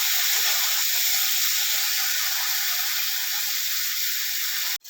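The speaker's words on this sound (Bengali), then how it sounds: "এবার সামান্য নুন আর লঙ্কা দিয়ে ভালো করে নাড়াচাড়া করে ভেজে নেব মশলাটা" Spice mix with salt and chili fries in hot oil for a potato and amchur dish, giving a steady, close, continuous sizzling hiss that runs unbroken before cutting off abruptly at the end.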